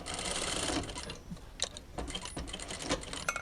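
A sewing machine stitches fabric in a continuous run, then stops and starts in short bursts, fairly close and steady with no talking over it.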